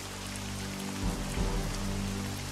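Steady rain patters on surfaces in the strategy video game Strategic Mind: Blitzkrieg, a dense continuous wash of drops over a low droning background hum.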